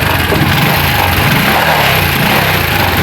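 Repaired motorcycle engine running steadily after starting, a loud, close, continuous buzzing idle with no speech over it.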